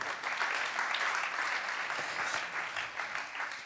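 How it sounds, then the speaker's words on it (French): Audience applause at a prize-giving ceremony, a steady dense wash of many hands clapping at an even, moderate level for the whole stretch, with no voices above it. "On peut les applaudir encore une fois."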